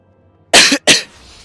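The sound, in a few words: person coughing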